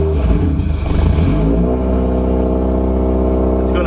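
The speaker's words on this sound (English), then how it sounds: "So I'm gonna start the car, and you're gonna see how fast it does it." A 2015-or-later Subaru WRX engine cranks briefly with a clattering start, then settles into a steady, loud, close idle hum with no talking.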